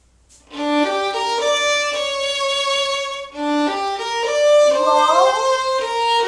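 Violin playing a Gypsy Waltz phrase with an up-bow slur followed by a down-bow note, sustained bowed tones in two connected passages with a brief dip between, played alone and close.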